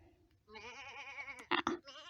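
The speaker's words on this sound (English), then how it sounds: "The sheep are terrified." A terrified sheep in the video game Fate/Grand Order lets out a long, wavering bleat, loud and close, broken by a couple of sharp bursts before the cry resumes.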